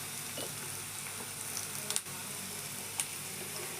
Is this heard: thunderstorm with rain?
no